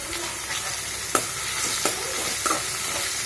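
Vegetables such as cauliflower, potato and peas stir-fry with mustard seeds in a hot pan. A bright, dense sizzle is cut by three quick scraping stir strokes.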